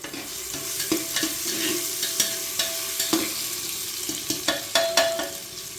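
Spices with ginger garlic paste frying in a pan, stirred with a utensil that scrapes and taps rhythmically over a constant sizzle, close up with no talking.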